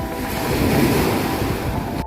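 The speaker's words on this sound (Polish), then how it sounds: "Ale idzie fala, idzie fala, trzeba podskoczyć." Ocean surf roars steadily as waves break on a beach in Tayrona National Park, Colombia, loud and close, with some wind rumble on the microphone.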